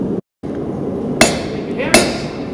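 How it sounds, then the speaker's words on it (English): A small raising hammer strikes metal at a forge during toolmaking, giving two sharp, ringing blows less than a second apart, close and loud over steady shop background noise. "a little raising hammer"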